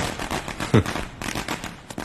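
Firecrackers burst in a Telugu action thriller film scene: a string of sharp, crackling pops, one louder burst standing out early, all fairly faint and distant-sounding with no clear talk over them.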